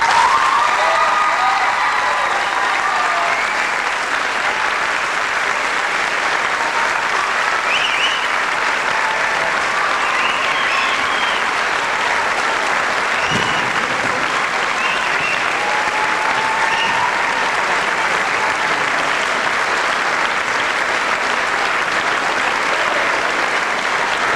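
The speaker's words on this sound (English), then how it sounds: "we'd like one more round of applause for him, please" Sustained, dense audience applause fills a high school follies show, a steady wall of clapping from a large crowd that holds its level throughout.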